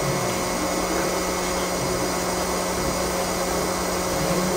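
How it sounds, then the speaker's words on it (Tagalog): A portable power station used as a generator runs with a steady, loud, unchanging mechanical whir and fan hum, with no pauses throughout. "Kagaya ng ibang generator, medyo maingay siya pag ginagamit."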